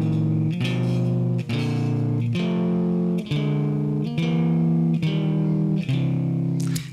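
Electric guitar plays a finger exercise pattern through distortion and effects, with about eight evenly spaced notes stepping in a repeating sequence, close and sustained, with no voice.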